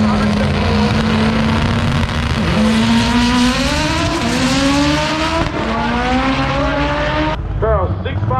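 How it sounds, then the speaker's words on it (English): A 1992 Honda Civic on the Budweiser side of a drag strip roars through a run, its engine note climbing steadily through the gears, loud and sustained with crowd and track noise behind and a brief squeal near the end. "We'll see if the Indiana-based 92 Civic on the Budweiser side can do it."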